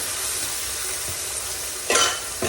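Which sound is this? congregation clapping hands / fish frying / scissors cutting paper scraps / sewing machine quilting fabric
fish frying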